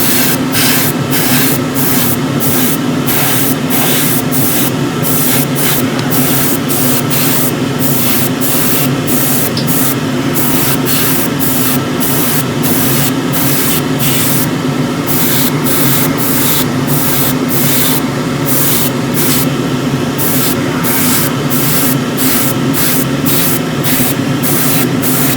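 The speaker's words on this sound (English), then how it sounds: "So I'm going to start off with this white ground coat paint, which is loaded up in the airbrush ready." An airbrush sprays white ground coat paint onto Tamiya Yamaha YZF-R1M 1:12 model fairings with a loud, continuous close hiss. Short regular dips mark each pass of the spray, and a fan runs underneath.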